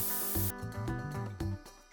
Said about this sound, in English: Color the bun with pink spray hair dye.